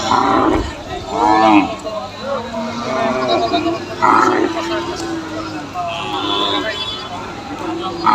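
Cattle, including bulls, heifers and calves, moo repeatedly amid the busy hubbub of a crowded cattle market in Tangail, Bangladesh, with people talking nearby over the low, drawn-out lowing calls.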